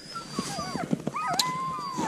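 Sled dogs whimpering and whining outdoors in snowy Greenland, several high wavering cries and short yelps overlapping close by, with faint background activity.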